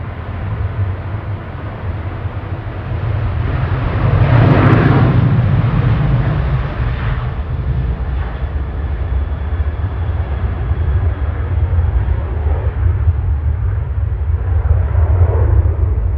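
A Boeing 737-800 airliner departs Manchester Airport for Dublin, its engines making a steady, loud broadband roar that swells slightly midway and holds throughout, with no talk.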